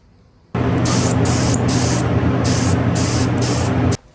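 A steady aerosol spray of silver paint hisses continuously for about three and a half seconds on 1968 Norton Commando parts, close and fairly loud, with a faint hum underneath.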